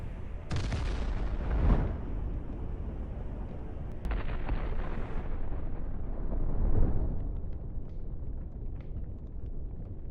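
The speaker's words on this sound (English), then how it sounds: "the second hit the survivors' ammunition, raising a fireball of explosion." A Russian armored vehicle's stored ammunition detonates after a Javelin missile strike, sending a sharp blast followed by rolling, crackling booms and a second burst, loud and close, fading into a lingering rumble.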